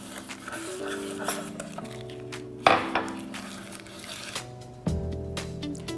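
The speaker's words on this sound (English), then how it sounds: "we're going to take a muffin tin and some olive oil and just grease the" A metal muffin tin being greased with olive oil, with clinks and knocks of the pan and utensils, two sharper metallic bangs standing out over soft rubbing and handling noise.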